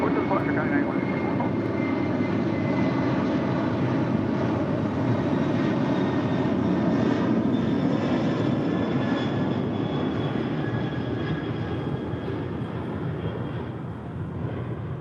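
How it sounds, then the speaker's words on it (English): Boeing 747-400 jet engines of a 26-year-old Kalitta Air freighter at LAX, a broad steady roar holding for the whole stretch, with talk layered over it. "That was Coletta Air Flight 9164 heading to Dover in a 747-400"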